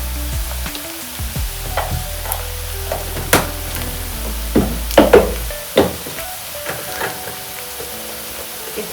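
Biryani masala sizzles in a pan while red chili powder is stirred in, a steady frying hiss with a low hum early on and scattered spoon scrapes and knocks against the pot.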